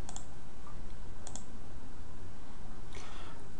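A computer mouse clicks a few times, sharp isolated taps spaced across a quiet background with no talking, as a data file is opened in Stata 11.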